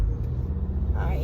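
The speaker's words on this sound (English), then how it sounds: "I'm just waiting to see if I can get by this trash truck" Trash truck on a road heard from a waiting car, a loud steady low rumble of heavy engine and road noise filling the short moment with no clear voices.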